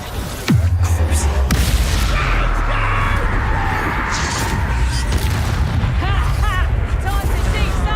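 In Hogwarts Legacy, Confringo blasting spells set off a heavy, continuous rumble of explosions, with loud booms, crackling debris and whooshing spell effects layered densely over each other.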